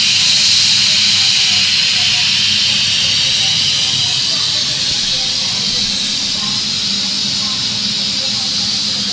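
Steady loud hiss of steam venting from an electric pressure cooker's pressure release, continuous and close, slowly easing off, with a faint low hum beneath.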